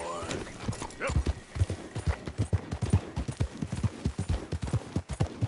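Horse hooves beat in a quick, steady galloping rhythm on a dirt trail in the Red Dead video game, loud and close throughout, with a brief whinny near the start.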